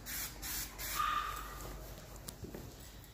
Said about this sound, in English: you only spray the bottom two-thirds on the first pass